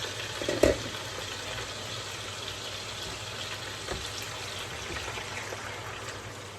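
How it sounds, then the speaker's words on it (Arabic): Water goes into a pot of Iraqi pacha as a steady trickling and bubbling pour, with a short clunk near the start and no voices. "هسه نضيف المي."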